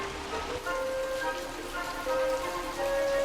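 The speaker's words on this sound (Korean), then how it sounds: "마침내 기다리던 봄비가 내리기 시작했다." Spring rain falling over rice paddies, a soft continuous patter and hiss, with faint tonal calls, likely frogs or birds, sounding steadily in the background and no one talking.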